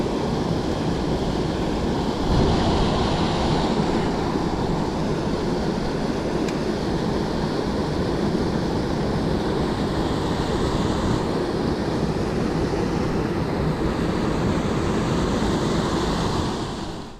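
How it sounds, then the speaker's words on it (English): Steady rushing water from small waterfalls near Union Pass pours continuously, a broad full roar close to the microphone with no breaks, tumbling over rocks. "Pretty neat little waterfalls."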